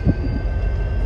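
Low, steady rumble of a train rolling along the tracks nearby as it switches lines, with a faint constant whine above the heavy mechanical drone.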